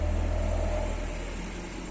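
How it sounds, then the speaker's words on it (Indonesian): Cars and motorbikes pass along a busy street, a steady engine rumble swelling near and then easing off slightly as traffic drones on without talk. "mobil dan motor yang lewat. Jadi sedikit agak berisik nih"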